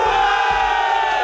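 Hösel golf team players cheer and shout together after winning at a golf league event, a dense burst of close group yelling held throughout.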